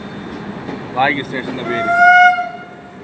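A train pulls into Chennai Central railway station at night, its rumble rising as a horn sounds clearly, while a person speaks briefly over the noise.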